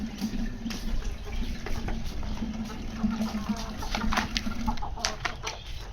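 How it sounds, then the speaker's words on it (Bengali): Drinking water is poured for pet quail, a continuous close splashing trickle with the birds' faint chirps and clucks scattered over it. "এখন আমি পানি দিব ওদের।"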